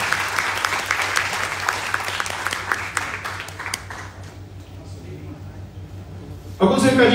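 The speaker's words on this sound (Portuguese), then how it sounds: "Uma salva de palmas, pessoal." Applause follows a lecture on federalism, a crowd clapping steadily and gradually thinning out before a voice begins speaking at the end.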